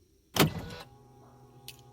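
Side mirror on a Toyota Aqua/Prius C folding closed automatically: a sharp click, then a short whirring motor hum that fades, with a faint click near the end, close and isolated.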